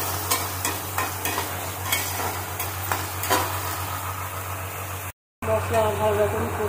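Spice paste for egg curry is fried and stirred in a pan, a continuous sizzle with repeated scraping strokes of the spoon, close and fairly loud, with a short break before the frying resumes.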